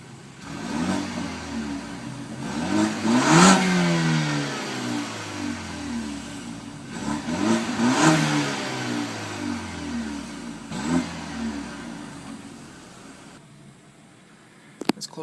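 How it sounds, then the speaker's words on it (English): A 2012 BMW 328i Sport Line engine revs up three times, each rise swelling and falling back to a smooth idle with a mild exhaust burble, heard close and without talk. "It has a slight exhaust burble too"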